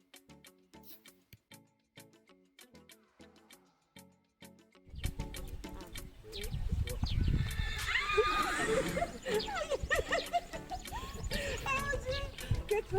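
A horse neighs at a ranch in Senegal amid loud, busy outdoor noise, with earlier soft hoof clicks and thuds before the commotion builds.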